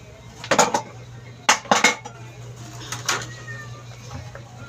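Dishes, plates and cutlery being washed by hand, with clinking clatters in several short bursts over a low steady hum, fairly near and moderate in loudness.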